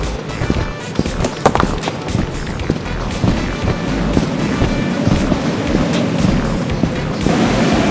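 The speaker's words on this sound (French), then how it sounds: "Wesh, y'a du vent." Gusty wind in a co-op horror video game, a continuous rushing roar with rumbling low-end bursts and crackly buffeting throughout, loud and close with no voices.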